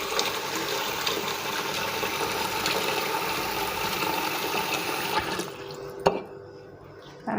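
Water poured over food to soak it fully, a steady rushing splash filling most of the clip before tapering to quiet, with a brief clink near the end.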